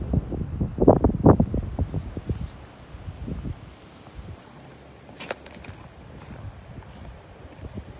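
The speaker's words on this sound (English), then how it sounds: "Last of the winter north wind." Cold winter north wind gusting outdoors, a low rustling roar that swells early and then settles into a steady faint whoosh with scattered light rattles and taps.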